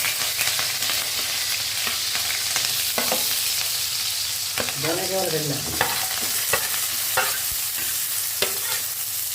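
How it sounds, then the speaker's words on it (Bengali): Green chilies and oil frying in a pan for Kokola noodles, a steady close sizzle with repeated scrapes and stirs of a spatula across the pan throughout. "এখন হচ্ছে আগে তেলটা এখানে ব্রাউন কালার করে ভেজে নেব কাঁচামরিচ তেল এগুলো"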